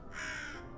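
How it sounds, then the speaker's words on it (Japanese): A single crow caw in the puzzle video game Tick Tock: A Tale for Two, one clear harsh call heard alone at close range. "こっちもカラスの鳴き声を聞くぐらいしか。"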